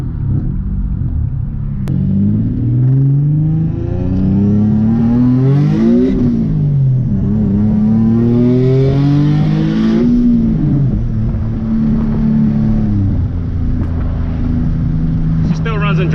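A turbocharged Nissan 370Z with a worn engine that smokes at stops, heard from inside while driving: a loud, steady engine drone whose pitch climbs and falls through several gear changes.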